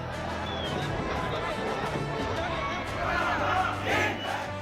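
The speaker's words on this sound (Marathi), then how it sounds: "आझाद मैदानात राज्यभरातून आलेल्या लाखो मराठा आंदोलकांनी जल्लोष केला" A large crowd of Maratha reservation protesters celebrating at Azad Maidan in Mumbai, a dense, continuous roar of many voices with shouts rising and swelling toward the end.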